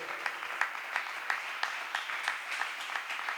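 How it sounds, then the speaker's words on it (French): A church congregation at a thanksgiving service applauding, with steady rhythmic clapping of many hands at moderate distance and no clear cheering. "Est-ce qu'on peut acclamer très fort?"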